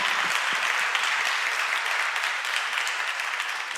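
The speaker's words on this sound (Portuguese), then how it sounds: "Dê uma salva de palmas ao Senhor." A church congregation applauding: dense, continuous clapping from a large crowd, evenly sustained at moderate loudness throughout with no speech.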